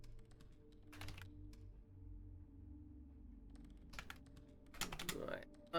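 Keys clatter on a computer keyboard in short bursts of typing, separated by quiet pauses, with a faint low hum underneath.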